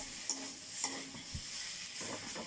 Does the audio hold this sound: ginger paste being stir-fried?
yes